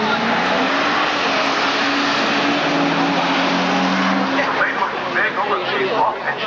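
A six-cylinder drag racing car at Ravenswood Raceway roars at a steady loud level for several seconds, with the engine sound broad and continuous and a faint tire-like squeal mixed in, while crowd noise or commentary sits underneath.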